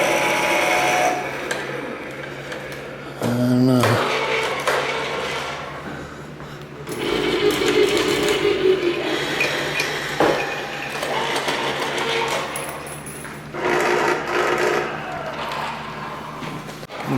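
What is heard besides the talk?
Can Opener Keyboard sound artwork being played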